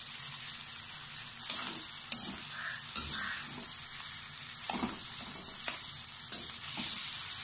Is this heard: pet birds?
no